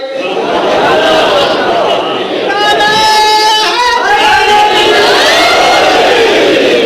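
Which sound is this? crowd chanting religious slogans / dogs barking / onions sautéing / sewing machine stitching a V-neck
crowd chanting religious slogans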